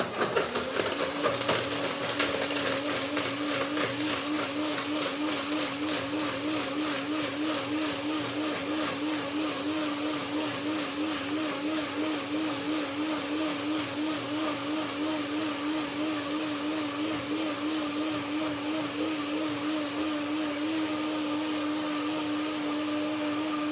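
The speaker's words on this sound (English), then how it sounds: "Blender dance." A blender whirs steadily, blending pears, grapes, apple, soaked cashews, lemon and a little water into a yogurt-like cream, a loud continuous motor drone with a slight wavering pitch, close and uninterrupted from start to finish.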